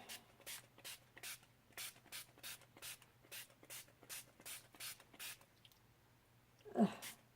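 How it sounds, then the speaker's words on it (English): A rapid series of short hissing bursts from a spray paint can, evenly spaced, close by, followed by a brief louder rustle near the end. "Let's go ahead and spray it."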